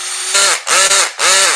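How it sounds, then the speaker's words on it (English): A Milwaukee or Makita 12V cordless hammer drill runs in hammer mode in three short, loud, close bursts with brief pauses between them, a rapid buzzing rattle over high whine, with no talking. "you hear that hammer mode?"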